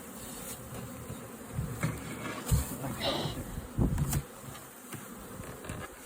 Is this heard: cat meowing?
no